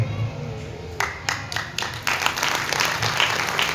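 Devotional satsang audience breaking into applause, the clapping starting thin and scattered then swelling into a dense, steady wash of many hands.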